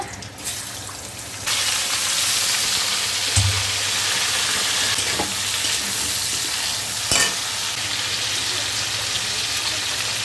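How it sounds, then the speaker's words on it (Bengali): Vegetables sizzle in mustard oil with black cumin seeds in a wok, a steady loud frying hiss that jumps up as they hit the hot oil, with occasional stirring clatter. "কড়াতে সর্ষের তেল দিচ্ছি কালো জিরে ফোড়ন দেবো এবার আমি সবজিটাকে ছাড়বো"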